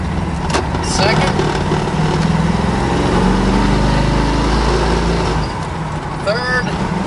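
A 1969 Chevrolet Camaro Z28 with a Muncie M22 four-speed pulls away in first gear, its engine droning loud and steady and rising in pitch throughout, with a brief shift-like change near the end.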